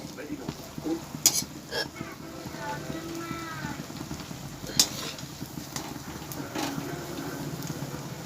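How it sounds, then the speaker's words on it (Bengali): Malpua fries in oil with a soft, quiet sizzle, punctuated by occasional clinks and stirring sounds, while a voice speaks intermittently. "হয়ে গেছে আমার মালপোয়া ভাজা এটাই লাস্ট"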